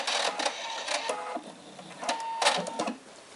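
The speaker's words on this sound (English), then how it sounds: "stitch forward, and back stitch at the end. And I'm going to do that again on the other side." Sewing machine stitching fabric darts for a small DIY bowl cozy, running in several short close-up bursts of rapid mechanical whirring with brief pauses between forward and back stitches.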